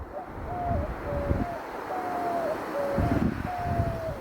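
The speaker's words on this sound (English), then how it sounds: "I heard doves." Doves cooing along the Arizona Trail in a repeated series of soft, drawn-out calls over steady wind noise, fairly close.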